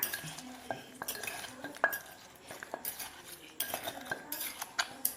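A Thai rice noodle papaya salad is pounded in a mortar, giving irregular, close knocks and clinks with bright scraping hits, fairly faint overall and with no talking.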